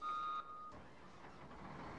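A few high electronic beeps from a reversing truck in Farming Simulator 17 sound at the start, then fade into a low mechanical rumble with no talking.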